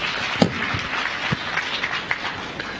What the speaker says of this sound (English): I thought he deserves a better clap than that